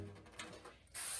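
A short burst of cooking spray hisses loudly onto a baking pan at the end, following a few quiet clicks and handling sounds.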